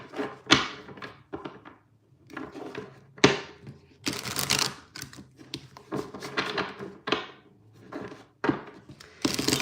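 A deck of tarot cards shuffled by hand gives bursts of crisp riffling, slapping and tapping in an irregular rhythm, close and fairly quiet, with no speech.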